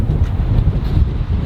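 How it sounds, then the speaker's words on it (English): Strong wind gusts across the top of a mountain peak, a loud, close roaring buffet of wind noise against the microphone with no other sound. "it is very windy since we're at the top of a mountain peak"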